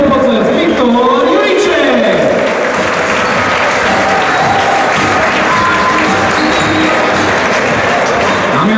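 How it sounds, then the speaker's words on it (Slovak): Loud, sustained applause from a basketball arena crowd honoring player Viktor at a Slovak league game between Spišská Nová Ves and Lučenec, steady clapping filling the hall with a voice over the public address and crowd noise mixed in. "Ešte na veľký potlesk, Viktor"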